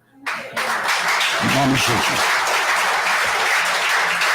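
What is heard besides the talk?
audience applause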